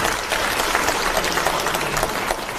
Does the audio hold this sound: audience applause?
yes